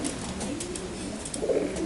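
Pigeons cooing in a bird coop, soft repeated low coos rising near the end over steady background noise, with no talk.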